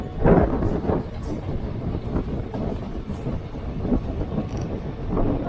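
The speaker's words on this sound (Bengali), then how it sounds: "আমাদের ট্রেনের সাথে এখন ক্রস করছে মেমো প্যাসেঞ্জার।" A MEMU passenger train rushes past alongside a moving Gonda–Asansol Express, a loud, continuous rumble of wheels and wagons close by, with rhythmic clacks and a few faint high squeals.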